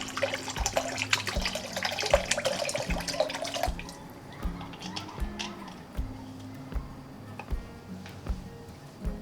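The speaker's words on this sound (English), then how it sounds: "Pour the entire bottle of alcohol and glycerin into a glass pitcher or mixing container." Alcohol and glycerin poured from a bottle into a glass pitcher, a steady liquid splash for about four seconds, then scattered drips and small knocks.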